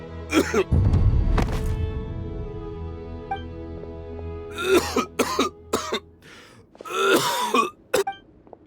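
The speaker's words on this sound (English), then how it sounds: "Why is he coughing so much?" A man coughs and clears his throat heavily in Genshin Impact's Sumeru region, followed by several more rough coughs in bursts over a faint musical background.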